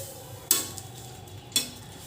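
Green chillies roasting dry in a pan for kharda, with two sharp scrapes of a spatula stirring against the metal over a low crackle.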